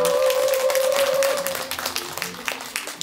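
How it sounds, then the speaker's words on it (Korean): Applause from a symposium audience greeting a lecturer on brain aroma therapy, moderately loud and fading after the first second and a half, with a sustained tone at the start and scattered claps trailing off. "정성국 강사님 큰 박수로 모시겠습니다"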